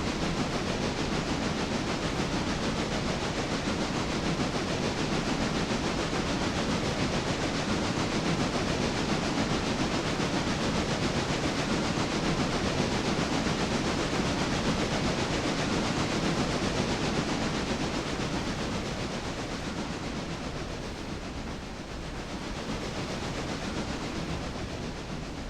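Locomotive in the Railroader video game pulling a string of rail cars at low speed under light throttle, a steady broadband rumble and hiss that holds evenly throughout, easing slightly near the end.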